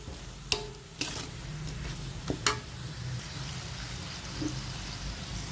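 Tofu stirred with plenty of onions and garlic in a pan: a few sharp scraping clicks of the utensil against the pan over a faint, steady low sizzle, fairly quiet and close.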